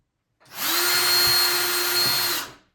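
Power drill boring a quick pilot hole through a bathroom wall into empty space behind, a single close, loud whine lasting about two seconds that starts abruptly and cuts off, with no talking.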